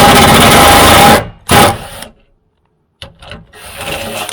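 A ratcheting wrench loosens a 10mm bolt on a 2020 Tacoma tailgate. It makes a loud burst of rapid, close clicking, then stops, gives a brief second burst, goes quiet, and ends with softer scattered clicks.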